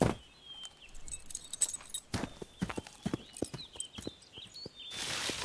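Horse hooves clip-clop in an animated adventure film, a steady series of close, sharp hoof strikes with a short pause, ending in a louder wash of noise.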